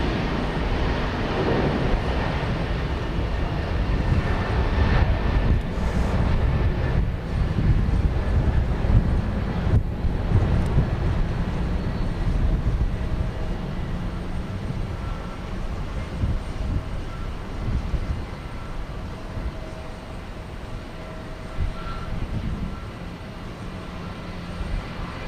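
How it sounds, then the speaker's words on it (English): A Boeing 777 bound for London roars down the runway at George Bush Intercontinental Airport in Houston, Texas, a steady, heavy jet rumble that stays loud and broad throughout and eases slightly toward the end. "Here goes the 777 off to London on runway DFW at large at George Bush Intercontinental Airport"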